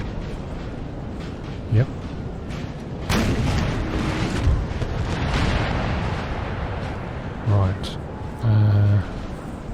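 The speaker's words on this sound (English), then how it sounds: "they have howitzers or something" Howitzer artillery fire in a Napoleonic battle in the Napoleon Total War NTW3 mod, distant booms and rumbling bursts under a busy battlefield din, while someone talks briefly.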